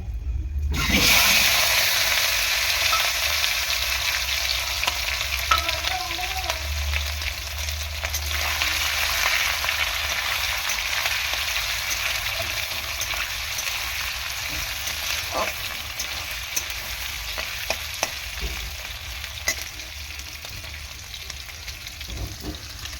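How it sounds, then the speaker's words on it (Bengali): Prawns frying in a pan with dried red chilli: a loud, steady sizzle and hiss that continues for the whole stretch, with occasional scrapes and pops in the oil. "চিংড়ি মাছটা আমি প্রথমে ভেজে নেব"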